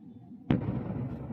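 A single sudden distant boom bursts out after a quiet moment, followed by a lingering rumbling tail.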